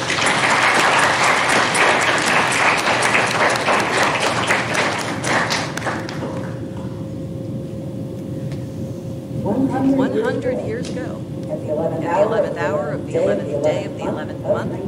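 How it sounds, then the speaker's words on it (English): A big round of applause fills a school Veterans Day assembly for several seconds, dense and loud, then fades as a single voice takes over and speaks. "so I'd like to give them a round of applause"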